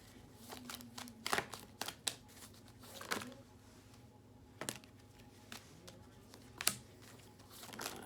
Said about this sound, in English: Why am I shuffling these cards like this?